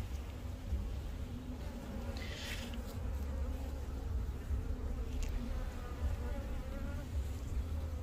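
Honeybees buzz densely around an open hive, a continuous close hum of many wings with low droning beneath, steady throughout with no talking.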